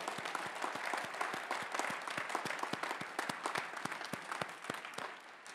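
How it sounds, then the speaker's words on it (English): A commencement crowd at Northeastern University's 2021 ceremony gives a round of applause, the claps sharp and distinct over a soft wash of clapping, moderately distant and fairly quiet, with no speech over it. "Let's give them a round of applause"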